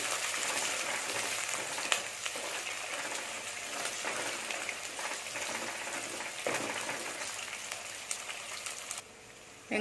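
Chopped onion and split green chillies frying in a pan on low heat for a tuna fish curry, a steady soft crackling sizzle throughout that drops away just before the end.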